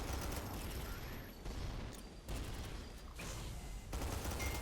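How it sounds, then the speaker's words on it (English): Scatter bomb blasts burst in the game SYNTHETIK 2, a dense, continuous roar of rapid explosions and gunfire-like crackle that rolls on with only brief dips, fairly loud and close throughout. "You can see the scatter bomb at work there"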